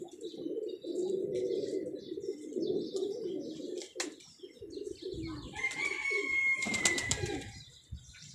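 Pigeons cooing in a coop, repeated low throaty coos close by, with wing flaps, a sharp knock and some brief higher chirps later.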